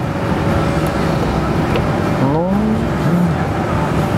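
The electric sunroof of a car imported from the USA slides open, a brief rising motor whine over a steady, loud background hum, with no talk.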